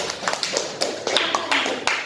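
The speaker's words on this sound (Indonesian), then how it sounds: "tepuk tangan untuk kelompok 2" A classroom applauds a student group after its presentation, giving a short, fairly close round of irregular hand claps at moderate loudness.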